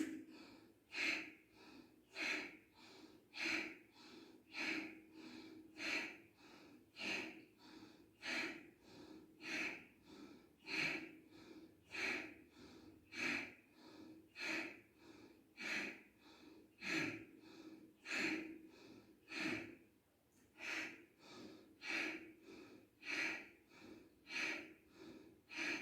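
Rhythmic forceful nasal breathing from a hatha yoga breathing exercise, with quick regular exhalations repeating at a steady pace, close and soft, with no voice over it.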